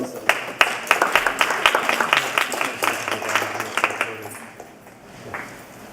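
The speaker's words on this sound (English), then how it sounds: "Give yourselves all a big round of applause." An audience at the Hartford Environmental Summit, an evening event on creating a sustainable city, breaks into applause, with distinct claps rising and then thinning out over about five seconds before the room falls quiet.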